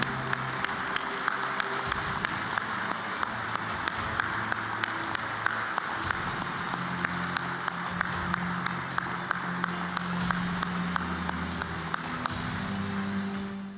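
A banquet audience at an air safety forum applauds award winners, a long steady round of crowd clapping with sharp individual claps standing out, a low hum running underneath throughout.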